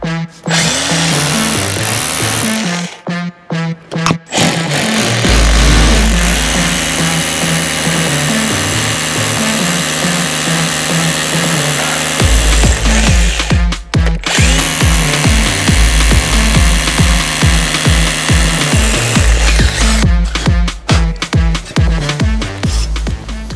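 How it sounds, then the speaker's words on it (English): An SGS power drill bores holes for a security light bracket, whirring loudly in long bursts that pause and restart, with short gaps of quiet between runs and no talking. "I'll now get my SGS drill and drill that."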